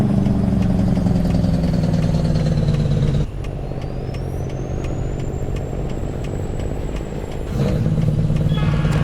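A truck engine in a video game, a Peterbilt 389, idles steadily and loudly, with a brief quieter stretch in the middle before the full rumble returns.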